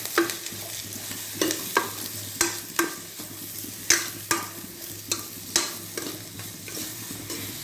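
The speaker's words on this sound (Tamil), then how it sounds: "உப்பு போட்டாலும் இப்படின்னா நல்லா வதங்கும்." Fresh coriander leaves sautéing in oil with salt in a pan, a steady low sizzle broken by repeated scraping and tapping of a spoon stirring at a regular rhythm.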